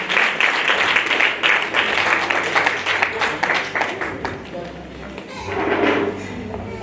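A church congregation at a tenth-anniversary service in Montreal claps in a loud, rhythmic burst that fades after about four seconds, with voices mixed in.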